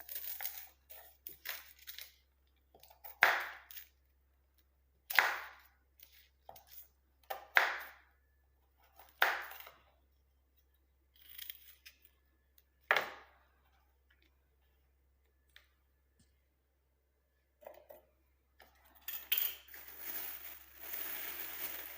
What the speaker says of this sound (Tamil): ஒரு வெங்காயம் எடுத்துக்கோங்க அதையும் வந்து பார்த்திங்கன்னா ஒரு சின்ன பீஸாக வந்து கட் பண்ணிக்கோங்க